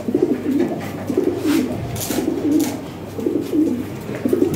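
Large European Lahore Shirazi pigeons coo repeatedly at close range, deep rolling throaty calls arriving in a steady rhythm of bursts, fairly loud, with no talking.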